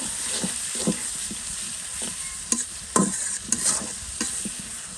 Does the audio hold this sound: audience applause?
no